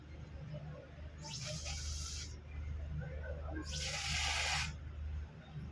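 Two bursts of sharp, hissing spray as air blown through a straw atomizes water, each lasting about a second, over a low steady background hum.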